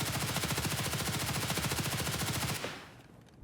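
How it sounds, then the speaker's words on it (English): Sustained full-auto fire from an HK416 rifle aimed at a wall in Escape from Tarkov, a loud rapid stream of evenly spaced shots that stops abruptly, leaving a short fading echo. "So move over here, we'll shoot at this wall back here."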